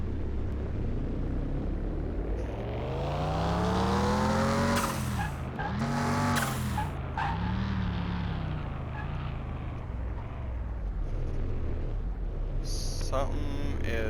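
A car driven hard with tires breaking loose and transmission trouble while shifting gears; engine pitch rises and sweeps repeatedly with revs dropping and climbing again, close and loud, with brief squealing bursts.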